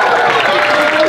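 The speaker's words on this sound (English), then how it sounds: "Please give a round of applause for Dr. Esteban." A pageant audience bursts into applause for Dr. Esteban, a dense, even wash of clapping that lasts only a moment.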